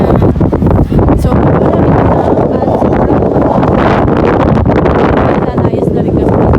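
Strong wind buffets the microphone at the Irini Olympic stadium in Athens, a loud, constant roar with gusts, and talk is faintly mixed in.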